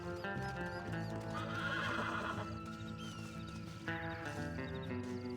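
A horse in the Red Dead Redemption video game gallops with quick clip-clopping hoofbeats while whinnying loudly and close, layered over sustained game music, with no talk.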